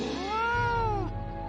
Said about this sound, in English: What a big, adorable kitty!